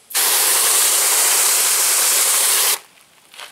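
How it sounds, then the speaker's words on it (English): A foam hose sprays soap while a car is washed, a loud steady hiss of spray that starts abruptly, runs for nearly three seconds and then cuts off, leaving faint background sound. "I am making bubbles."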